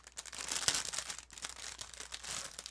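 Plastic wrap packaging being pulled open, a quiet continuous crinkling and crackling with small irregular bursts, close up and faint.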